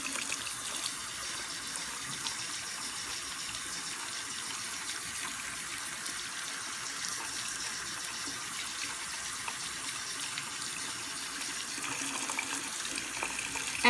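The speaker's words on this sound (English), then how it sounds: "now I'm going to rinse it in the warm water once again to remove the soap" Steady stream of warm tap water running and splashing continuously while rinsing soap from a makeup brush, close by, with faint handling clatter near the end.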